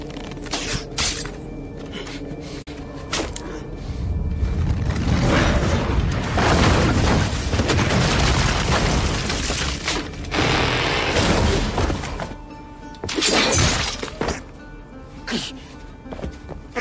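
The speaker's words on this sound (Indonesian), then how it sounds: "Seketika bom itu diledakkan" A bomb trap detonating inside a cave in the film Rurouni Kenshin, a swelling roar of blast and debris that builds after a few sharp clicks and crashes, sustained for several seconds before breaking into scattered impacts.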